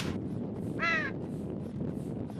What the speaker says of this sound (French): Le goéland nous rappelle pour le retour.